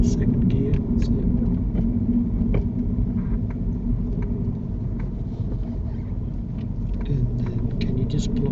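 A car engine rumbles steadily in second gear during a driving lesson, a low continuous drone with faint road noise and occasional small clicks, no sharp changes.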